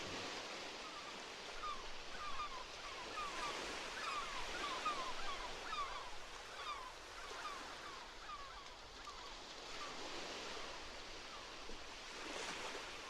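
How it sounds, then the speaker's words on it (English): Ocean waves wash against the shore in a steady hissing roar of surf, gently swelling and receding in continuous broad noise, with faint bird-like chirps scattered through the middle. "try to hear all of the different sounds of the ocean"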